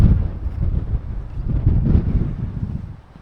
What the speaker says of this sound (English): That wind as you get out of there, that's brutal.